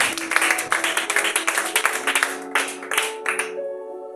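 A church congregation breaks into lively, rhythmic applause and acclaim for the king, dense clapping that fills the room for a few seconds before thinning out to a few last claps.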